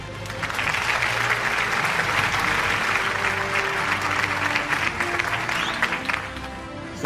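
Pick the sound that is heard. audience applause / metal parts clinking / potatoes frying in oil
audience applause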